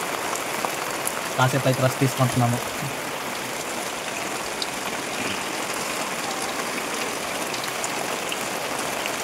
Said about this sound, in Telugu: బాగా గట్టిగానే వర్షం పడుతుంది.